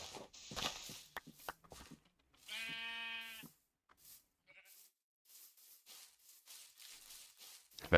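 A sheep in the video game Minecraft gives one clear, wavering bleat, surrounded by soft game footsteps and scattered clicks in an otherwise quiet scene.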